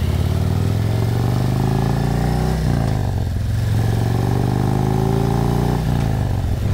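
A motorcycle engine runs loud and close in a continuous rumble, its pitch easing down and rising again twice as the revs drop and build.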